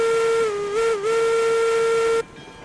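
A steam locomotive whistle of a Cooke engine in the railroad game RailRoads Online sounds one long loud steady blast with a brief dip in pitch, then cuts off sharply, leaving faint background noise.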